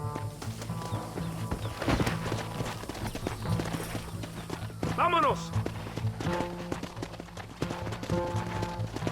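Hoofbeats of a horse galloping in the Red Dead Redemption video game, a steady clip-clop running under loud game music and shouted voices.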